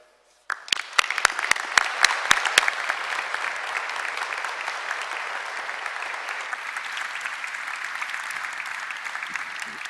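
Sustained audience applause at a democracy forum conference welcoming Maia Sandu to the stage, opening with a few sharp distinct claps and then swelling into a steady, dense roomful of clapping that continues evenly without talk.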